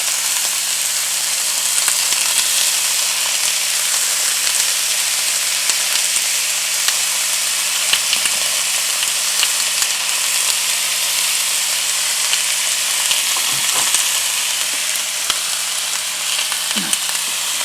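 Food sears steadily in a hot pan, a loud, even sizzle and hiss running the whole time with a few brief clinks and knocks of utensils, close and uninterrupted by speech.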